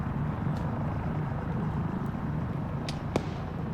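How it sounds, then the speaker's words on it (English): A helicopter's steady low rotor rumble approaching in the video game Arma 3, with a few sharp distant pops or shots cutting through near the end. "the helicopter's coming up close"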